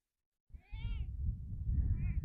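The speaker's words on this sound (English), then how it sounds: "I can hear Ninja Kitten coming." A kitten called Ninja Kitten meows twice close by, a short rising call followed after a pause by a longer, softer one, over low rustling background noise with no talk.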